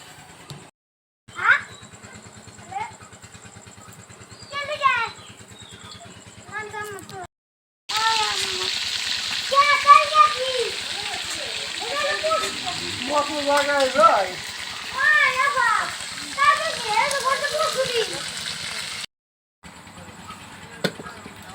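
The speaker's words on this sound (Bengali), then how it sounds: "সেই ক্ষেত্রে আমি একটু মাংসটা হালকা ভাজবো, ভেজে একটু শক্ত করে নেব।" Farm chicken meat frying lightly in a hot pan, a steady loud sizzle with occasional stirring scrapes. A person talks over it, and there are brief pauses in the sizzling.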